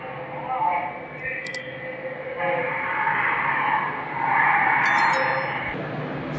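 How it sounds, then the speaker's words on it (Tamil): A loaded 12-ton rice lorry drives out of a roadside ditch at night, its engine rumbling and straining in a steady swell, while people talk nearby over the noise. "இந்த வண்டி மூவ் ஆகுது பாருங்கள்."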